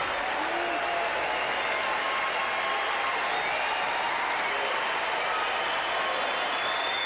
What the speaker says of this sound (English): Crowd appreciating the fine play and encouraging Pete.